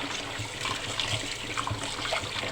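Water runs steadily from a tap while raw chicken is washed in a kitchen, a constant splashing, gurgling stream with light irregular sloshes.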